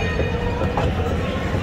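A ride-on mall train rumbles along with a steady low clatter and rolling hum, close and continuous, with faint voices mixed in.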